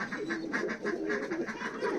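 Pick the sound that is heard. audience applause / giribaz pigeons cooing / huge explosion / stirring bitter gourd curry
giribaz pigeons cooing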